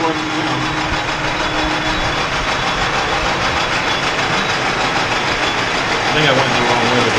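An old lathe in the original machine shop aboard the USS Massachusetts machines brass stock, producing a loud, steady machinery drone that runs continuously throughout, close by and without pause.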